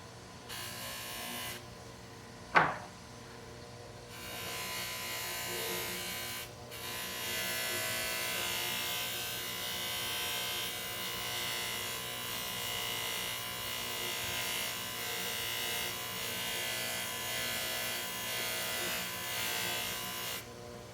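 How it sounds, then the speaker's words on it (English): A polishing wheel deburrs a small metal part from a classic Bally pinball machine, giving a steady, moderately quiet whirring hum with a faint grinding rasp that runs continuously after a brief sharp click near the start. "I'll get rid of those on the polishing wheel here"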